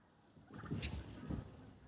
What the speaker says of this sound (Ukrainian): Індик, дивіться.